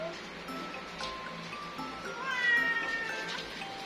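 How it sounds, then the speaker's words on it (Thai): A cat meows repeatedly up close, a few short soft mews followed by a longer drawn-out cry, over faint background rustling. "น้องเป็นแมวที่น่ารักมาก ๆเลยนะคะ"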